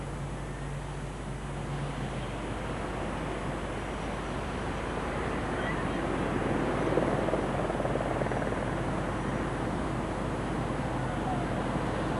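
The Avro Lancaster City of Lincoln of the Battle of Britain Memorial Flight passes over during a Heathrow 50th anniversary flypast, its drone a steady, broad engine roar that swells gently as it nears.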